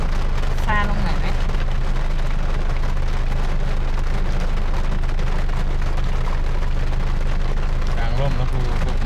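Heavy rain pours steadily at a campsite near Pha Tat waterfall in Kanchanaburi, a dense, continuous hiss close to the mic that lasts throughout.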